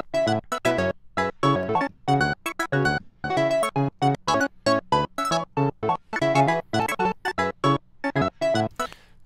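A cheesy 80s-style synthesizer loop made in Logic, choppy gated chords stabbing in a fast repeating rhythm, bright and dense, played loud with no voices.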